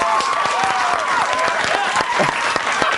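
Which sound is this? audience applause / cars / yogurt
audience applause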